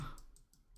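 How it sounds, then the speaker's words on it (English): A quick series of faint, evenly spaced clicks, about four crisp ticks in under a second, close by and quiet. "Ignore the sounds of me clicking rapidly right now."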